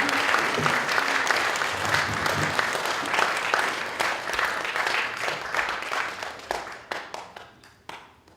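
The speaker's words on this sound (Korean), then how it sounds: "큰 박수로 지한 큰 스님을 환영해 주십시오." Audience at a Buddhist temple service applauding to welcome a monk, sustained dense clapping that gradually thins out into scattered individual claps before fading.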